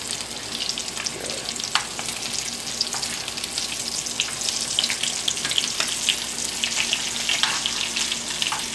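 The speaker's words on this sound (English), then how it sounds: "typically when we hear that sizzle, we're going to turn it down just a little bit" Chicken nuggets in a breading coating fry in a pan with a steady, close crackling sizzle, dense bright spitting pops running throughout, with no talk.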